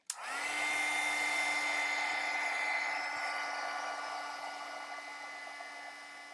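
A heat tool blows hot air to dry embossing paste on a handmade Christmas card, a loud steady whirring hum that starts abruptly after a click and runs continuously, easing slightly toward the end, with no voices.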